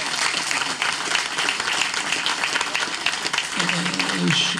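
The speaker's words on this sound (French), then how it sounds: "on peut l'applaudir parce que..." Audience at a New Year's greetings ceremony in Pazayac applauds the deputy mayor, with steady clapping throughout and voices talking over it near the end.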